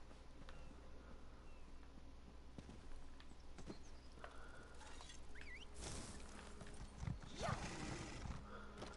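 Horse hooves clip-clop in a video game, a quiet rhythmic patter under game sounds with brief louder bursts near the end.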